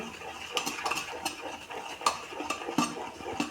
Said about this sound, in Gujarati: ઈનો નાખીએ ને એને બરાબર હલાવી લઈશું